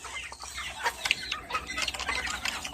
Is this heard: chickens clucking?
yes